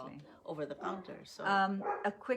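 Several dogs bark and yip in short bursts in a home setting, fairly close, mixed with a person talking over them.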